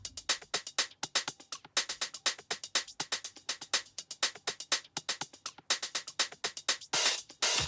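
Looped drum pattern built around busy, bouncing hi-hats in a production, with dense regular ticks driving a steady groove and a brief washier burst near the end; no talking.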